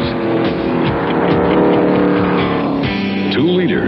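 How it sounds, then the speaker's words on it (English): A 5.9-liter, 650-horsepower stock race car engine roars loud and steady throughout, its pitch bending as it sweeps past. "Kyle Petty and the Mellow Yellow Racing Team."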